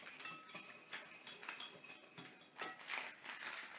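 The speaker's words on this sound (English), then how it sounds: "But now I'm putting 2 bags of gelatin, my strawberry gelatin, and my 3/4 of hot boiling water." Utensil stirring strawberry gelatin into hot boiling water in a bowl, faint repeated clinks and scrapes in an irregular rhythm, close but quiet, with no talking.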